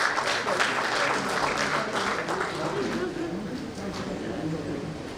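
Audience applause at a doctor-patient network event, a burst of clapping that starts full and slowly tapers, with voices mixed in.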